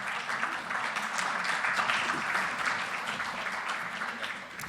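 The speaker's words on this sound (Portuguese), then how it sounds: "Por favor, Paulo, uma salva de palmas." Audience applause for the moderator at a dementia talk event, steady and continuous for the whole stretch, a dense wash of many hands clapping at moderate level with a faint murmur of voices underneath.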